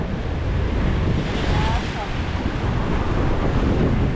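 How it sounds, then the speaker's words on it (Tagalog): Steady, loud roar of big ocean waves and surf against a rocky fishing spot at Avoca, mixed with heavy wind buffeting, continuous throughout with no clear breaks. "Malaki alon mga kadiskarte."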